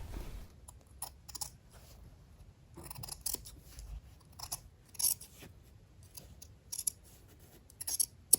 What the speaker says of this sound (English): I'm going to trim down one of the seam allowances by half